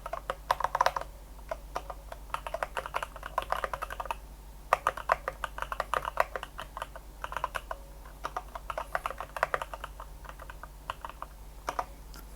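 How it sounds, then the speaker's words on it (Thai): Fast typing on an AJAZZ AK680 mechanical gaming keyboard: dense runs of crisp, close clacking keystrokes in steady bursts with short pauses, over a faint low hum and no talk. "ลองดูบนจอผมพิมพ์สัมผัส ได้ โอเคดี"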